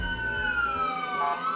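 Ambulance sirens wail outside Hospital El Pino in San Bernardo as a protest, a steady sliding tone heard briefly at a moderate distance.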